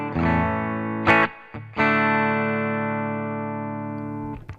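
Electric guitar played through the Deluxe Reverb amp model on a NUX Mighty Space wireless desktop amp: sustained, ringing chords, close and loud, with a brief strummed accent before the notes ring out and fade.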